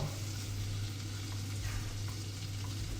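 Shrimp or prawns frying with garlic in a pan, a steady broadband sizzle with a low hum underneath, continuous and moderately close, with no talking.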